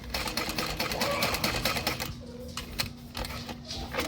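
A sewing machine top stitches around the zippered opening of a fabric backpack at a number 5 stitch length, running steadily and close up with a rapid mechanical whir that carries on without a break.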